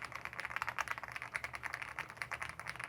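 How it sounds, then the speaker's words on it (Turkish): Rapid, clicky typing on an Ajazz AK820 Pro hot-swap mechanical keyboard, a steady patter of keystrokes heard alone and fairly close. "gelin bir tekrar şu klavyenin şöyle bir sesini size dinleteyim"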